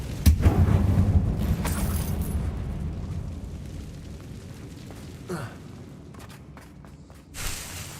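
A Confringo fire spell bursts in a dark mine in Hogwarts Legacy, a loud rumbling blast up front that slowly rolls off into a low fading roar, with a softer thump near the end.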